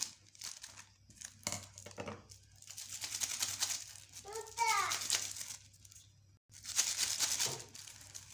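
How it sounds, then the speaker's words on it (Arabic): An Indomie seasoning packet is opened and torn, giving several crisp crinkles and a sharp rip of thin plastic, close up, with someone talking in between. "فتح بقى الطعمة"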